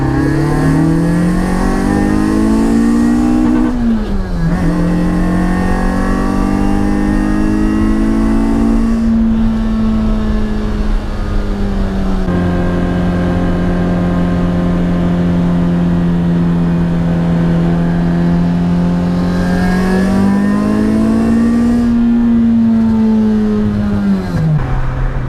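A car engine runs loud and continuous at full throttle during street tuning, its tone holding steady with slow rises and dips in pitch over a long sustained pull.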